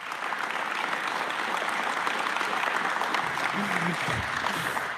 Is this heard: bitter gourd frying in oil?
no